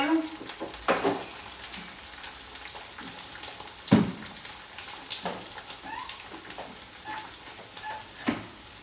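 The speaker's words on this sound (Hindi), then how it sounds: "साथ में कर रही हूँ चावल की कचरियाँ फ्राई" Rice kachri crisps seasoned with cumin and rock salt fry in hot oil, a steady close sizzle broken by occasional sharp clatters and bursts of bubbling.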